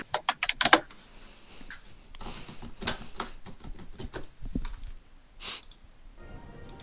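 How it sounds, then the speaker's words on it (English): Fast, angry typing on a computer keyboard: a quick burst of loud clattering keystrokes, then scattered harder key hits and pauses, close and dry with no talking. "Angry typing."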